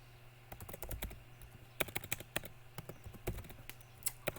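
Rapid, irregular clatter of keys being typed on a computer keyboard during PHP object-oriented programming work, close and moderately loud, in uneven bursts with short pauses over a low steady hum.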